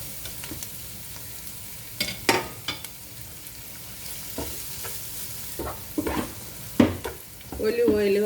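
Chopped onion and capsicum sizzle in olive oil in a frying pan, a steady crackling hiss broken by irregular spatula scrapes and clanks, close up with no talking.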